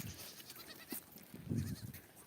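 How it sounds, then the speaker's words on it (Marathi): Goats bleat on a farm beside a cauliflower field, a few short, fairly faint calls with one stronger bleat near the middle and a wavering cry just after. "बकरं घेऊन आत्ताच आले मी फ्लावरच्या वावरामध्ये"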